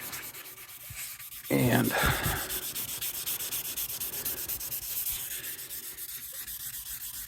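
Wood being hand sanded with small bendable sanding pads along the grain on a bass guitar build, a steady close rubbing rasp throughout that grows louder after the first second and a half.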